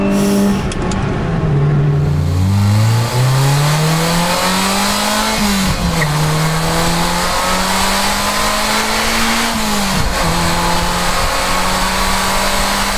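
An old car's engine revs loudly and close up, rising and falling in repeated throttle blips over a steady idle for the whole stretch.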